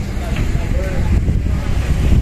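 Coastal sea breeze blowing by the shore near a wharf bridge roadworks site, a steady broadband rumble of wind buffeting the microphone that fills the whole stretch, with faint background voices.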